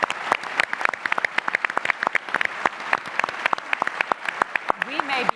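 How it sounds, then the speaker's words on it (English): An audience at a 2018 gubernatorial candidate debate gives a round of applause, with scattered distinct claps that sound fairly close and moderately loud and keep a loose, uneven rhythm. "I actually would like to see if we can get a big round of applause"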